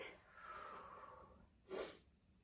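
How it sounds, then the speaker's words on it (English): A single quick nasal sniff, close and sharp, following a stretch of soft breathy noise during a full-body workout class. "Excuse my sniffling."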